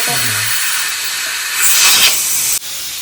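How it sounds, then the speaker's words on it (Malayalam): Steam hissing from a cooker while steaming puttu, a steady broad hiss that swells briefly near the middle and then cuts off abruptly. "അപ്പോൾ നമ്മുടെ കുക്കറിൽ ആവി വരുന്നുണ്ട്"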